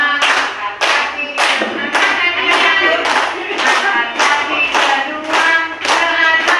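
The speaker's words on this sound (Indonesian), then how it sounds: "mari tepuk tangan, tepuk tangan semua" A group claps hands in unison during a school exercise session, rhythmic loud claps repeating about every half second with a strong steady beat, no voices over it.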